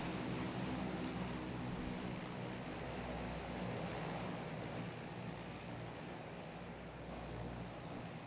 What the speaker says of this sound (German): Flugzeug. Das droppt relativ close.